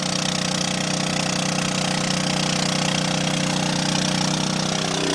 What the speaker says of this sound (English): See how it cuts that pipe right in half,